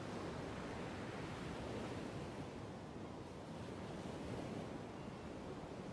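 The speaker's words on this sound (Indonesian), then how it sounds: "dalam gemuruhnya ombak samudra" Steady roaring surf, a dense continuous wash of ocean waves with some wind, even in loudness and with no voices.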